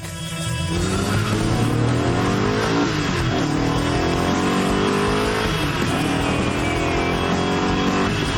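An Ascari KZ1 sports car engine roars as it accelerates hard from rest, pitch climbing through several gear changes, loud and steady throughout with no voices.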